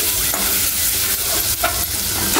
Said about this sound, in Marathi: आलं लसणाची पेस्ट जी आहे ती चांगली तळून घ्यायची आहे।